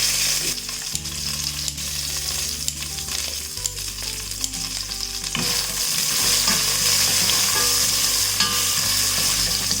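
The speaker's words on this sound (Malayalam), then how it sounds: "ഇതുപോലെ ചൂടായി വരുമ്പോഴേക്കും നമ്മൾ ഈ എടുത്ത് വെച്ചിരിക്കുന്ന പട്ട, ഗ്രാമ്പൂ, ഏലക്ക അതിട്ട് കൊടുക്കാം" Whole spices such as cinnamon, cloves and cardamom, with curry leaves and dried chillies, crackle and sizzle steadily in hot oil, loud and close and continuous, while low background music plays beneath.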